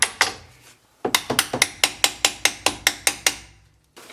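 A hammer strikes metal repeatedly while the front shock absorbers of a 2007 Golf 5 Plus 1.9 L 105 hp are being replaced: one loud blow, a pause, then about a dozen sharp, evenly spaced ringing hits close by.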